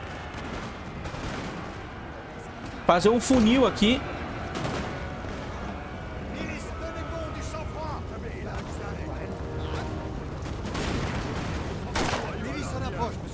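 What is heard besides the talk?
musket gunfire in video game Napoleon: Total War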